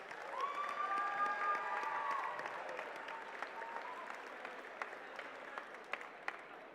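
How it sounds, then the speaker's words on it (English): Applause from the crowd at a FIRST robotics district event for Team 709, distant and fairly soft clapping with a faint tonal whine over it, tapering to a few sharper isolated claps. "let's give them another big round of applause."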